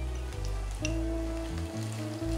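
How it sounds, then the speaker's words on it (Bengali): Onion frying in a pan, a steady low sizzle sitting under a hum of low steady tones, fairly quiet and continuous, with no voices over it. "পেঁয়াজটা লাল, একদম লাল লাল করে ফ্রাই হবে"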